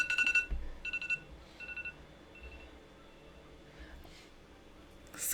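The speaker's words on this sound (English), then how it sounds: "Excuse my phone alarm there." A phone alarm rings in a quiet room, repeated bright electronic beeps in short bursts near the start, then fading out, with soft faint noises between.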